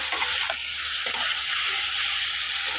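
Spice masala for a cucumber and golda prawn dish sizzles and is stirred in a hot pan, a steady bright frying hiss broken by a few scraping strokes of the spatula, close up with no talk.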